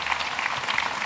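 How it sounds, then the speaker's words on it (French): An audience applauds at an Armenian community conference, a short burst of dense, fairly steady clapping heard at moderate volume. "Je crois qu'on peut les applaudir."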